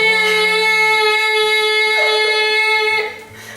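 A human voice imitates a hospital finger oxygen-monitor alarm, holding a loud, steady electronic-sounding tone with strong harmonics for about three seconds before trailing off.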